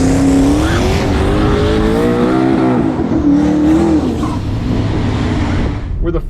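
A twin-turbo 5.0-liter Mustang at a drag strip sits rumbling with a steady, droning engine note that rises and dips slightly, loud and close, with a voice talking over it.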